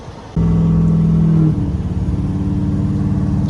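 A 6.7 Powerstroke diesel truck engine starts up and idles close by, a deep steady rumble that settles into a lower, slightly uneven idle after the first second, with no voices.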